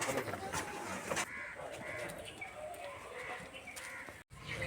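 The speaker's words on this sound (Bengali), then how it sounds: "এই দেখো গাছে প্রচুর পাখি আসছে" Birds gathering in a jujube tree call outdoors, mostly crow-like caws, some repeated and some overlapping, at moderate distance against steady background noise.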